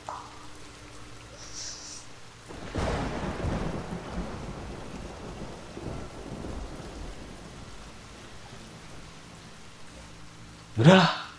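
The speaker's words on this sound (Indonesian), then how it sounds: "Dan situasi di puncak itu masih hujan." Rain falls steadily at the stormy summit of Mount Cikuray, where rolling thunder swells in a long, loud rumble that slowly fades, followed by a short voice sound near the end.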